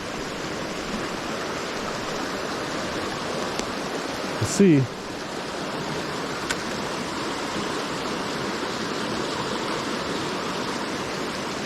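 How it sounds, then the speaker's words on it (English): A waterfall and stream in Upper Michigan rush in a steady, full broadband roar that fills the whole clip, with someone speaking briefly once over the water. "This is a waterfall I've never seen."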